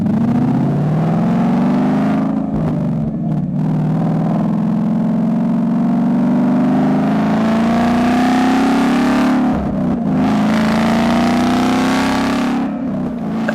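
A loud car engine with loud mufflers revs steadily upward with a deep, rumbling exhaust, briefly dropping between shifts before climbing again; close and continuous.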